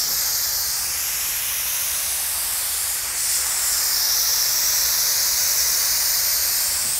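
A paint spray gun coats a Ford F100 truck in one unbroken, loud, airy hiss that holds steady for several seconds, dipping only briefly midway.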